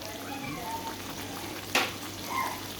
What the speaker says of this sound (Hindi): अब हम इसको भून लेंगे।